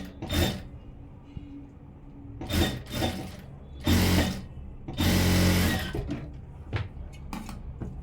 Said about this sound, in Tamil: ஓர தையல் போட்டுடலாம் இந்த ஹூக் பட்டியில்.